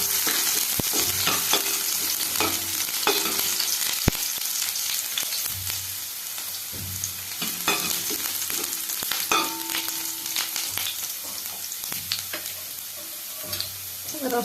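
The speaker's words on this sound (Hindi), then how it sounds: "एबे सेथिरे कटा रसुण आ अदा को पकाई भल भाव में भाजी" Chopped garlic and ginger fry in hot oil with a continuous, loud sizzle, broken by repeated clinks and scrapes of stirring against the pan.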